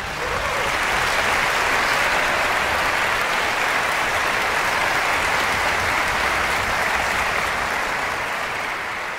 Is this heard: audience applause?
yes